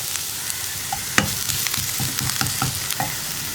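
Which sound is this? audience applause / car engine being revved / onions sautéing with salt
onions sautéing with salt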